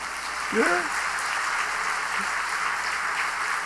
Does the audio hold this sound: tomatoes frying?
no